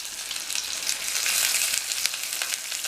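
Chopped onion and curry leaves frying in hot oil for a South Indian tempering, after mustard seeds and urad dal, a steady close-up sizzle and crackle with no talking.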